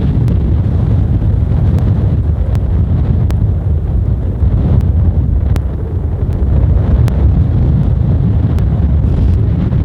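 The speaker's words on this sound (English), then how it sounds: "Why did it get so windy all of a sudden?" Strong hot wind at Lonely Dell Ranch buffets the microphone with a loud, continuous low roar, punctuated by faint rhythmic ticks, no voices heard.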